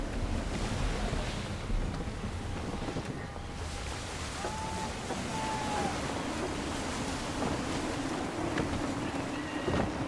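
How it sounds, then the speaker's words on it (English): Gusty wind and rolling waves sound steadily around a sailing ship at sea in the Assassin's Creed 3 video game, a constant full-band rush that swells and eases throughout. "Wind looks to be shifting. Stay alert, Connor. Gusty winds can be difficult to manage."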